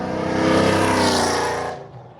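A 1986 Ford Mustang Foxbody revs hard under acceleration, a loud, close, steady roar that holds for well over a second and then cuts off abruptly into near silence.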